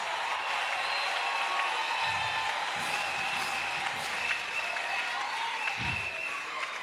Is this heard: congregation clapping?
yes